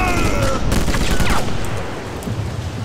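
Enemy gunfire in the sniper shooter Sniper Elite: a short cluster of sharp shots and ricochet-like cracks, loud at first and then easing into a quieter rumble.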